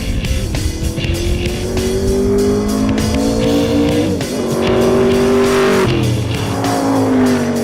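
Spyker and Shelby Cobra sports cars launch side by side in a drag race, engines roaring loud and close with rising gear-change pitch sweeps and tire squeal throughout, no voices.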